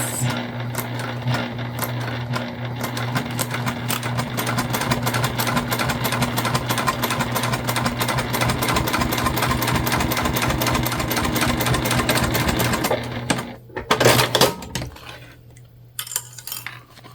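Close and steady, a sewing machine stitches a candy bag in one long continuous run with a rapid rhythmic needle chatter, then stops, followed by a few brief clacks and handling noises.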